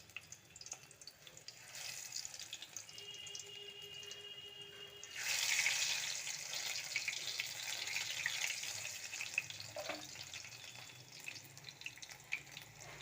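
Spinach pakoras dropped into hot refined oil, a quiet faint background that swells into a steady close bubbling sizzle partway through and carries on to the end.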